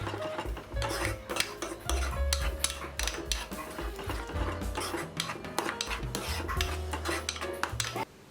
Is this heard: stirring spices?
yes